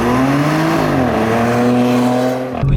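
A factory-supercharged Audi A7 3.0 TFSI accelerating through a corner, its engine note climbing loudly and steadily before easing off near the end, heard from close by without talking.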